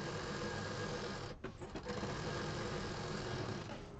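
A sewing machine stitching an L-shaped seam on a handmade party purse runs steadily with a continuous whirring hum, breaking off briefly once before carrying on, close and fairly quiet.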